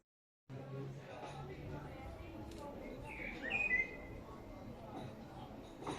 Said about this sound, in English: The birds are happy, singing again and again.